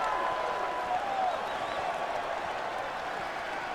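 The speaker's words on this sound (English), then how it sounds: "Never had a crowd cheering for me like" A crowd in The Witcher 3: Blood and Wine cheers and applauds as a steady, diffuse roar throughout, moderately loud and a little distant.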